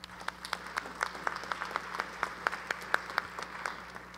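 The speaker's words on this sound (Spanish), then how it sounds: "Fuertes aplausos." Scattered audience clapping at a university anniversary ceremony for a physical education school, individual claps distinct and fairly close, moderately quiet with a steady low hum underneath.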